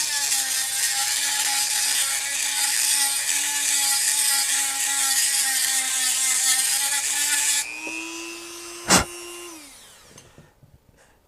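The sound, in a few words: Dremel with conical grinding bit crowning a barrel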